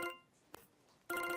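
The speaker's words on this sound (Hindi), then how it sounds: "अरे सुनते हो, तुम्हारे फोन पे कॉल आ रही है।" A mobile phone rings for an incoming call with short, faint electronic tones that stop, leave a quiet gap with a brief click, then resume.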